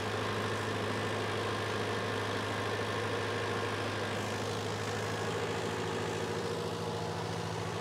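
Mahindra Arjun Ultra 1 605 DI tractor with a modified diesel pump, its diesel engine running with a steady low drone and hum, held at a constant pitch throughout.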